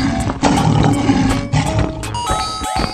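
A cartoon lion lets out a loud, sustained roar over busy background music, rough and close for a few seconds.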